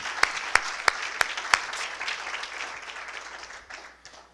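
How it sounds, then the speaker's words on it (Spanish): Church congregation clapping hands together, with several sharp, evenly spaced claps standing out at first over a wash of softer clapping that gradually fades. "Dele palmas al Señor, hermanos"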